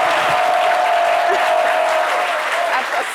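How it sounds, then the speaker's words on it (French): Studio audience on a French midday TV show breaks into loud, sustained applause and cheering, a dense wash of clapping that holds steady for the whole stretch with a whistle-like tone running through it. "Applaudissements"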